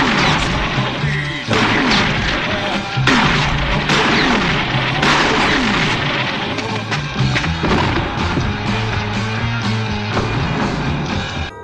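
Gunshots and booms from the climax of the 1986 thriller Manhunter, dense and loud throughout, several sharp impacts and crashes layered over a continuous film soundtrack with music.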